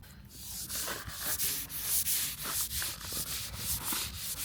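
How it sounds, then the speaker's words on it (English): A wet Scotch-Brite pad scrubs green growth and anti-fouling paint from a boat hull, making steady repeated rasping strokes, close and moderately loud, with no voices. "just a little bit of Scotch-Brite cleans that green off really well"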